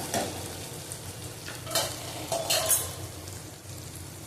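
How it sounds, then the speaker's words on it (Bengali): Potatoes sizzle in a pan with poppy seed paste as a spoon stirs them. A continuous frying hiss carries a few louder scraping strokes near the middle, and nobody speaks. "এবার দেবো এর মধ্যে আলুটা"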